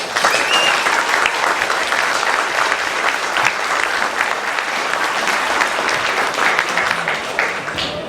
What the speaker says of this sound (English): Big round of applause for Dr.